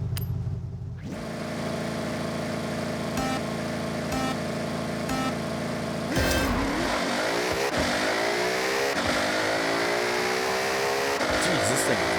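A drag car in the Forza Horizon racing game revs hard at the drag strip, the engine note climbing and dropping in several sharp sweeps after a brief quiet start, loud and close throughout.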